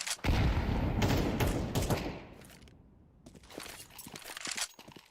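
SMG gunfire in a competitive tactical shooter match during a push onto a bomb site: a dense, loud burst of rapid shots for about two seconds, then scattered fainter shots and thuds.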